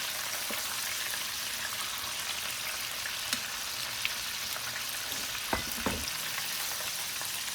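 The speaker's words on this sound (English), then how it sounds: "Using my cast iron. That is the best frying apparatus you can use." Chicken pieces frying in hot oil in a cast iron pan, a steady close crackling sizzle with a few sharper pops, no voices.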